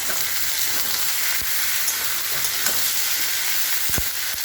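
Food frying in a pan with salt, turmeric and ginger paste added, a steady bright hiss of sizzling oil, close and even, with a few faint knocks of stirring and no talk.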